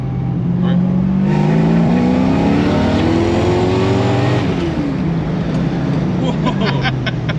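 A Datsun 240Z engine revs and accelerates, its note rising and falling through gears, loud and close, while people talk over it.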